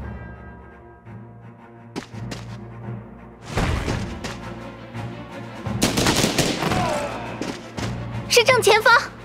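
Gunfire in the strategy game Banner of the Maid, with a burst of sharp volley shots midway and more cracks later, set among game music and spoken dialogue.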